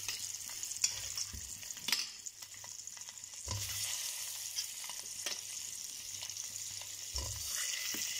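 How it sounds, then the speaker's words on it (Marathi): Eggs shallow frying in about a tablespoon of oil in a wok give a steady sizzle, broken by occasional scraping and stirring knocks, close and moderately loud, with no talking. "आपण आधी यात अंडे फ्राय करणार आहोत"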